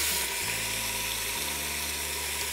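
Meat sears in hot oil in a pressure cooker, a steady loud sizzle with hiss that carries through the whole stretch without talk.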